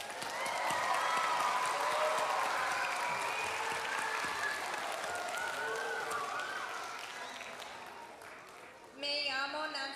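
Loud crowd applause and cheering from a large audience of San Marcos school district students and guests at a Texas State University book award event, sustained for about nine seconds before fading, with a brief burst of voices at the end.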